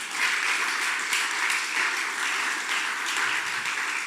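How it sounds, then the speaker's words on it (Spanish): A church congregation breaks into steady applause, a dense wash of clapping from many hands that holds at an even level for a few seconds. "por lo menos, un aplauso."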